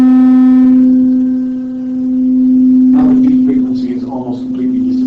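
Two steady sustained musical tones tuned to the same pitch, with the slow beating between them fading out to a smooth, even, unwavering sound, followed by some soft background noise.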